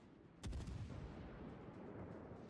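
Cruiser Leander's guns fire a single sharp, loud salvo at a Colorado battleship in World of Warships naval combat, followed by a rolling rumble that fades slowly.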